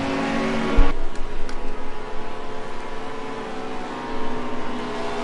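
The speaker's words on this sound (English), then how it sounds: "The GT3's come through to start lap number 2" GT3 race cars sweep past during a race at Spa, a loud engine roar swelling then fading into a sustained mechanical drone with a second surge of engine noise near the end.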